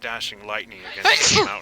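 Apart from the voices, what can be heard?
sneeze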